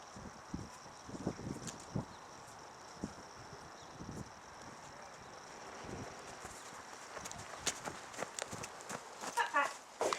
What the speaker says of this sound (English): Oakley and I are now going to lead and walk him back and trot back